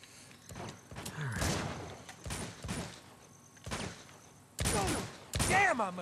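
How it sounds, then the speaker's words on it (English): Sharp, snappy gunshots ring out in bursts during an Uncharted 2: Among Thieves firefight, several separate cracks spaced across the moment with some louder near shots toward the end, and a voice talks between them. "The shooting in this one's a lot snappier than in Drake's Fortune"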